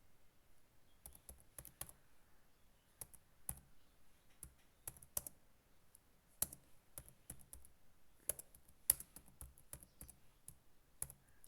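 Computer keyboard tapped while C code is entered, scattered quiet key clicks in irregular bursts with pauses between, close and alone without talk.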